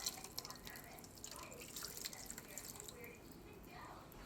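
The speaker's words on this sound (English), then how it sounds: "To the pan, I'm just going to add about a cup and a half of some filtered water." Filtered water pours into a pan holding diced onion and garlic, a faint, soft trickle with light dripping and splashing across a few quiet seconds.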